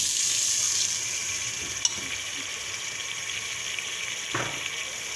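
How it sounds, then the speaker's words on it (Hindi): Chopped onions fry in oil in a pan for beef aloo gosht, giving a steady hissing sizzle close by with a couple of brief utensil knocks and no talking. "अच्छे से इसको फ्राई कर लीजिए कि इसका कलर गोल्डन ब्राउन हो जाए"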